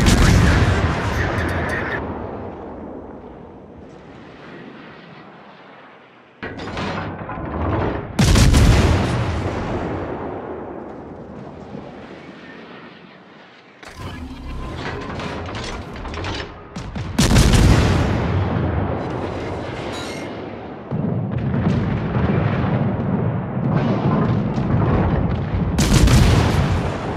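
Heavy naval gunfire from warships in World of Warships rolls out in repeated booming salvos, each loud blast decaying slowly before the next, with clustered volleys later on.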